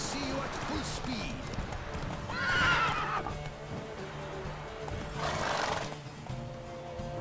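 A horse gallops in The Witcher 3, its hoofbeats running rhythmically alongside two whinnies, while voices talk throughout.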